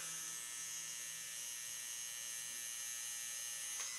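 A Dragonhawk Mast Archer tattoo machine runs with a steady, continuous electric buzz at an even level, close and alone, with no talking.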